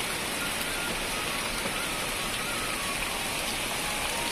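Heavy rain pours steadily in a hilly rural area, a dense, even roar of drops with no pauses and no voices.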